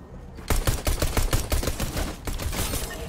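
Pistol fire in Fortnite landing a headshot: a rapid string of sharp, punchy shots after a quiet opening, loud and close, closely spaced with brief gaps and no talk.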